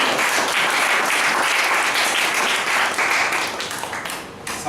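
An audience breaks into full, dense applause for a speaker, steady and loud throughout, with a few individual claps standing out near the end as it begins to thin out.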